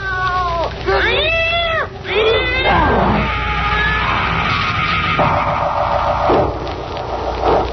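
Radio drama cat effect: several drawn-out, wavering meows and yowls come close and loud, followed by a busier stretch of layered, tense sound effects.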